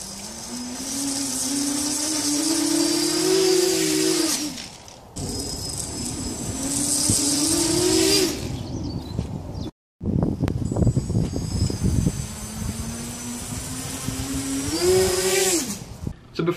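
Small electric motors on a homemade RC F-35 VTOL model aircraft whine loudly during a test flight, pitch rising and falling as throttle changes, with a brief cut-out near the middle and no talk.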